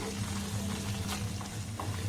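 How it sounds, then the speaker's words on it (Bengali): Chhana, semolina and ghee are stirred together in a pan, a dense, steady frying hiss with faint scraping over a low background hum, brief and without pause. "আবার সমস্ত উপকরণ খুব ভালোভাবে নাড়াচাড়া করে নেব।"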